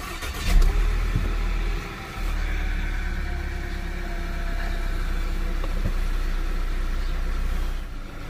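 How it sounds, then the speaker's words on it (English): A car engine catches and settles into a steady idle right after new spark plugs were fitted, a loud continuous low rumble with a brief dip early on and no voices over it. "And let's start the engine."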